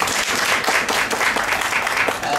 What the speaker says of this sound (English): we may have a clap for him